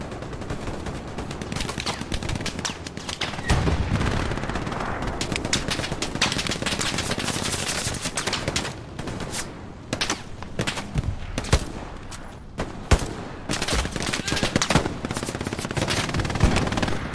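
Close, loud gunfire in the video game Hell Let Loose: dense, sustained bursts of rapid automatic shots and overlapping rifle cracks fill the whole stretch with no pause and no talking.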